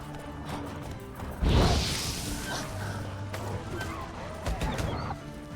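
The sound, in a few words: Roach the horse's hooves and whinny, from The Witcher 3 video game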